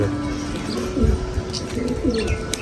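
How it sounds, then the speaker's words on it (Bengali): Soft, low pigeon coos repeat in a gentle rolling rhythm close by, with a few faint higher chirps and steady background hum. "কবুতরের কি অবস্থা আসলে কালকে সারাদিন ওদের ছাড়া হয়নি"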